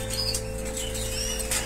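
Breeding birds in an aviary give soft chirps and coos with occasional wing flaps, moderately close over a steady background hum, with no talking.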